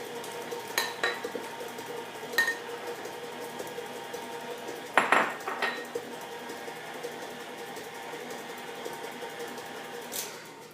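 Egg being mixed into banana cake batter in a mixing bowl, giving a steady scraping, whisking texture with a few sharper clinks of utensil against the bowl, close and moderately loud, with no talking.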